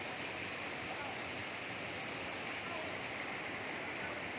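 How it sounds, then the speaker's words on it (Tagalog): A waterfall in Ilocos Sur roars in a dense, unbroken rush of falling water, loud and close, with no pauses across the few seconds. "Ayun pinagmamalaking falls mga parikoy"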